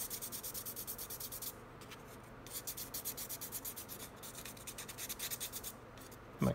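Steady, rhythmic rubbing and filing on a Serpent 989 model car part as burrs are touched up around the shoe, close and fairly quiet, repeating in quick strokes with no talk.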